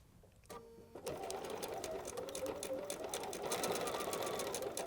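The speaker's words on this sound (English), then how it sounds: "We're going to backstitch." Sewing machine running steadily as it backstitches quilting fabric during foundation paper piecing, starting after a short pause and continuing as a loud, even motor whir with rapid needle ticking.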